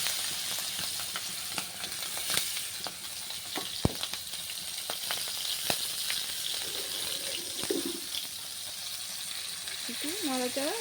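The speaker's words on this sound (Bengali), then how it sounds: "সব চিংড়ি মাছ ভালোভাবে নাড়াচাড়া দিয়ে দিচ্ছি।" Prawns coated in turmeric, salt, green chilli and garlic sizzle in hot oil in a wok, with a steady broadband hiss and scattered clicks and scrapes as they are stirred; a few tonal clinks near the end.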